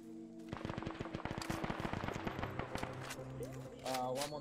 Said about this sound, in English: Shots over there.